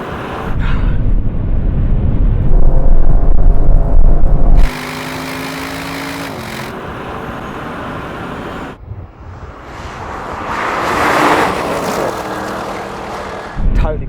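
Tesla Cyberbeast and Audi RSQ8 launching in a drag race, a loud sustained engine and drivetrain roar with an abrupt shift in tone, then rising whine and a second surge of power, no talk.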